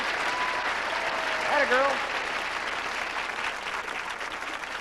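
Studio audience applause greets two game show challengers, a steady broad wash of clapping throughout with a host's voice speaking briefly over it.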